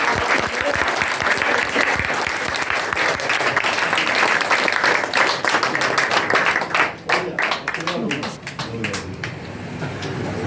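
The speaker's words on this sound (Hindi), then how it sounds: "इतने धीमे से तालियां बजेगी तो कैसे बात करेंगे।" An audience at a naming ceremony claps steadily, dense applause that thins into scattered individual claps toward the end.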